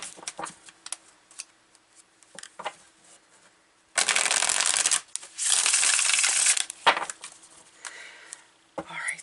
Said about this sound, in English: so let's shuffle this beautiful deck of tarot